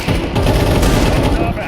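A Desert Eagle pistol shot in a video game cracks loudly and close, a dense burst of gunfire that rings out briefly and fades.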